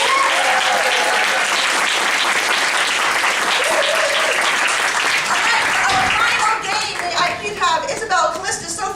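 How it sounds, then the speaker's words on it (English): A loud, sustained round of applause from an audience as performers leave the stage, dense clapping with cheering voices and talk mixed in, thinning slightly toward the end. "Give a round of applause."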